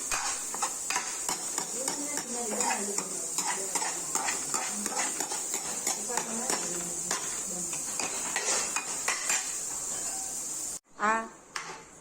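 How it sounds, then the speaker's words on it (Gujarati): Fenugreek leaves and dried chillies frying in oil in a wok, a bright continuous sizzle with repeated scraping and clinking of a spatula, close up, until the frying noise abruptly drops away near the end. "સૂકા મરચાં નાખી અને મેથીની ભાજી આમાં આપણે થોડીક વાર ફ્રાય કરવાની છે"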